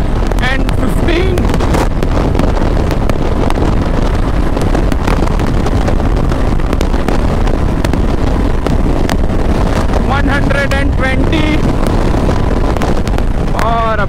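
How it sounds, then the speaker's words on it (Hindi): A 2021 Royal Enfield Classic 350 motorcycle held at full throttle near top speed gives a continuous loud engine drone buried in heavy wind buffeting on the microphone, with a rider speaking over it. "और दोबारा से पूरा दे दिया है मैंने एक्सीलेटर"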